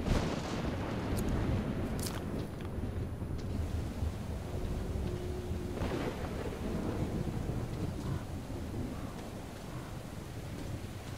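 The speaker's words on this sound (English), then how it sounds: "Do I want to be outside during the storm?" Thunderstorm in the Metro Exodus video game: a continuous heavy roar of rain and rumbling thunder over eleven seconds, with a few sharp crackles early on and no speech.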